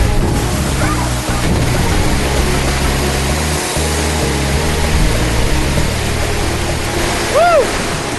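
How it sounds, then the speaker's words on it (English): Heavy water pours and churns without letup at the Siem Reap River headwaters, a loud, dense roar heard from up close, with faint voices now and then in the background. "It is so forceful underneath that waterfall"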